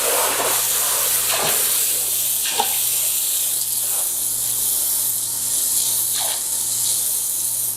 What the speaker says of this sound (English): We can take this and spray off all of the garnet that has collected on top of our work